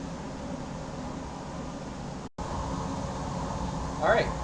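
Laboratory fume hood ventilation running, a steady close roar of rushing air that cuts out briefly midway and then resumes, with a voice speaking over it.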